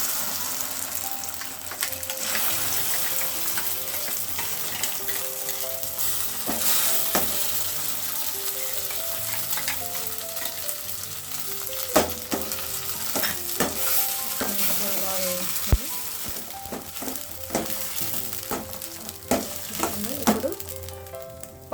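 A paste of cumin, ajwain and dried red chilli sizzles in a pan of turmeric curry, with steady frying hiss and repeated scraping, stirring clinks from a spoon, close and continuous without speech.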